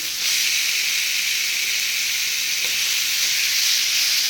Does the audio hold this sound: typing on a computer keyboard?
no